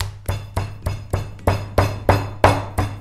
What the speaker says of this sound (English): all my spices are in the pestle mortar. I'm gonna grind them down now